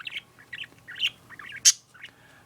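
Pet budgies chirping and warbling close by in a home, a busy run of short tweets and squawky notes with one louder sharp call near the end.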